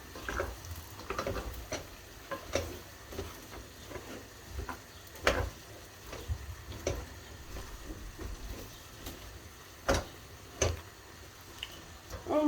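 Vegetables fry and are stirred in a pan for a Turkish vegetable and minced-meat stew: a steady low sizzle with irregular scraping and clacking strokes of the spoon against the pan, recorded close.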